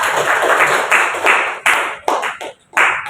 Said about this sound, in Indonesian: Tepuk tangan dulu dong Mbak Zayana.